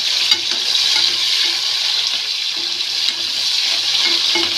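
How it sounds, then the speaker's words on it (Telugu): Chopped tomatoes and onions frying in a pan with salt and turmeric for a Nellore-style fish curry, a steady close hiss of sizzling with faint stirring scrapes and no talk. "ఇప్పుడు టమాటా వేస్తున్నాను."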